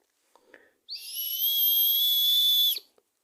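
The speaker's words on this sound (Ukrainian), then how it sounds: "Так, свисток." A small keychain whistle blown once, a shrill, steady high-pitched tone lasting about two seconds after a few faint clicks.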